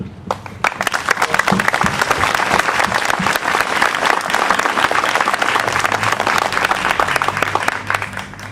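An audience at a Tea Party rally in Bainbridge, Georgia applauds military veterans with loud, sustained clapping that builds quickly and stays dense throughout, with a few crowd voices mixed in.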